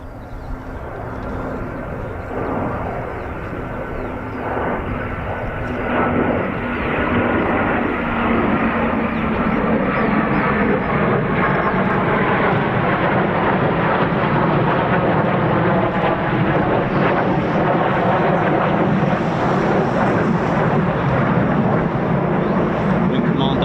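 RAF jets, a T3 and an FGR4, fly slowly past during a King's Birthday flypast rehearsal, with a loud, continuous engine roar that builds and then holds steady while a voice talks underneath.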